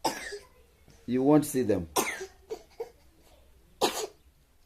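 A sleeping man coughs in several short, rough bursts spaced a second or so apart, close and fairly loud, with someone speaking briefly between them.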